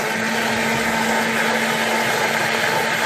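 A blender runs steadily at close range, whirring and blending a creamy saffron and habanero chile salsa with white vinegar, a constant loud motor drone with a strong hum and no pauses or voices.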